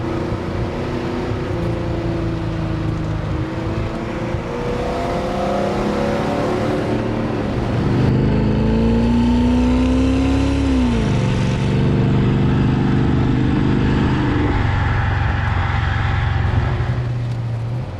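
A Porsche 928S fixer-upper project car is driven through corners on its first proper drive, its engine note rising and falling as the revs are held fairly low, with a steady, close drone and no speech.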